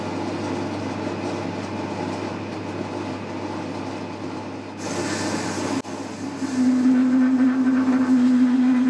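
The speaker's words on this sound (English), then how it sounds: "put it in the 3-jaw chuck so all this would be held in the chuck, and then just part off this end" A metal lathe with the workpiece held in a 3-jaw chuck parts off one end at about 210 RPM. A steady mechanical hum and rumble runs throughout, with a brief hissing burst, then a sustained low droning vibration tone.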